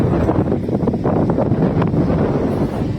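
Steady wind buffets the microphone on the Côte d'Armor coast, a continuous loud roar with gusty low rumble and no voices over it.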